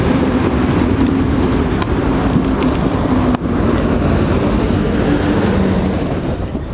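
Train running on the line from Partick, a steady loud rumble of wheels and motor with faint rail clicks throughout, no talk.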